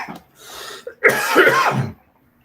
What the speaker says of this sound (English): just recovering from sickness, got that cough